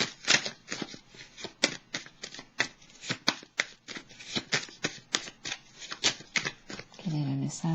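Tarot cards are shuffled by hand during an astrology reading. The brisk, papery riffles repeat quickly and sound close, and a voice speaks near the end.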